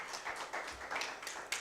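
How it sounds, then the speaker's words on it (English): An audience at an international interdisciplinary university conference gives a brief round of applause. The clapping is faint and distant, a short patter of quick claps. "Round of applause, please."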